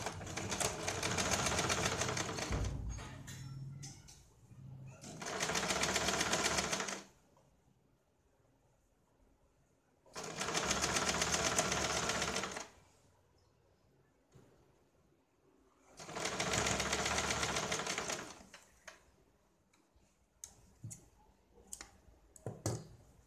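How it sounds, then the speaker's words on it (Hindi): Sewing machine running in three long bursts of several seconds each while stitching the folded half-inch edge of a katori blouse, separated by quiet pauses filled with soft clicks and fabric handling; no talk. "किनारी पे सिलाई लगानी है"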